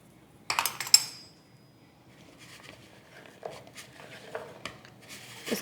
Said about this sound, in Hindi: जैसे जैसे आप लेमन डालें इसको साथ साथ मिक्स करते रहें।